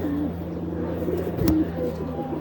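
A flying pigeon kept as a pet coos in soft, low repeated phrases close by, with a brief louder rustle in the middle and steady background hum.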